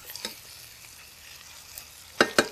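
Peppers and onions frying in a pan, with a faint steady sizzle under a few sharp scrapes and stirring clatters toward the end, close and fairly quiet.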